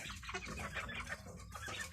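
Native farm chickens clucking and calling close by in a busy, continuous cluster of overlapping bird sounds, with no speech.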